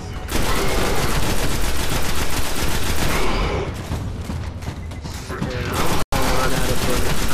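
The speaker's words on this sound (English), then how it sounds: "I'm gonna run out of bullets trying to kill this thing." Dense, continuous gunfire and combat noise from the video game Destiny, a loud sustained barrage that eases slightly midway, cuts out for an instant, then surges back at full intensity.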